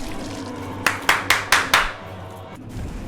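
Five crisp hand claps sound in quick, even succession, close and loud over a low background hum, then fade out.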